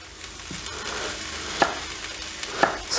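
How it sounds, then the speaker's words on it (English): Sausages sizzle in a frying pan for a sausage, peppers and onions dish, a soft continuous crackle and hiss with a few light clicks and stirring taps, fairly quiet and steady. "Our sausages are starting to sizzle over there."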